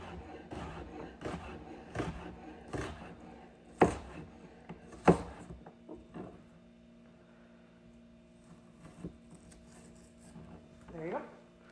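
Knife slicing through an onion on a cutting board, a run of crisp, close chopping taps at an irregular pace with a few sharper, louder cuts, tapering to sparser strokes and quiet handling noise.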